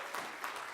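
Brief burst of audience applause at a talent show, steady dense clapping from a crowd, fairly close, with no talk over it.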